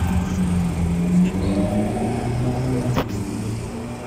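Ferrari F8 Spider passing on a city street in Munich, a steady low engine drone with a brief whoosh near the end, moderately close amid traffic noise.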